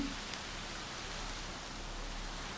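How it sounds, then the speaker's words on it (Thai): Steady rain falls across a dinosaur park in Jurassic World Evolution, a constant even hiss with no breaks and no voices over it. "ไม่หลบฝนกันหน่อยเหรอฮึ"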